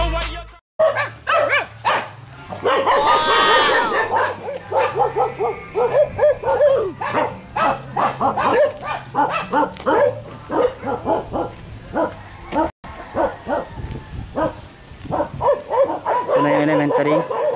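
Dogs bark, yip and whimper in a rural village scuffle, close and loud in repeated bursts, with people talking over the noise at times.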